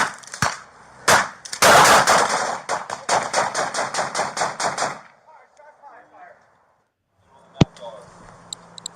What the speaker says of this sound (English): he got tased, fired off a round, and then they lit him up